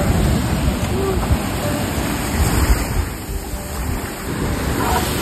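Arabian Sea waves at the Somnath shore wash in with a steady, loud roar and surging rush, close to the microphone, with wind noise mixed in.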